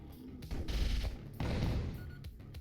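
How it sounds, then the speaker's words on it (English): A burst of rockets launches in a sci-fi space game, two clustered rushes of whooshing, crackling blasts with thumps between them, fairly close and moderately loud, with no voices. "we now fire out a whole bunch of rockets"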